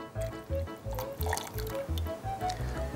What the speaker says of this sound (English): all I'm going to do is pour it into another beaker